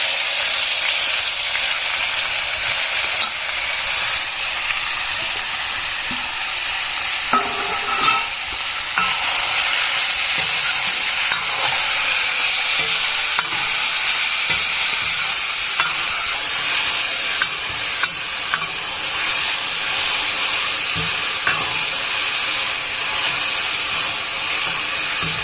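Mushroom vegetable curry frying and being stirred in a pan in a Nepali village kitchen, a continuous loud sizzle with scraping stirring strokes throughout.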